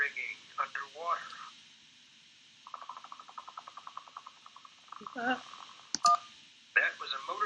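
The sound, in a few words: motorboat propeller failing, Kentucky Route Zero video game sound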